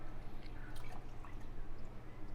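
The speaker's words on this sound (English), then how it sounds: "Just keep scooping it, dissolving that honey, and pouring it out." Elderberry syrup with honey drips and trickles from a cup with a spout, faint wet pattering and splashes over a steady low background.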